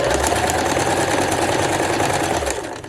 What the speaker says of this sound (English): just keep sewing on the horsehair with that 1/4 inch seam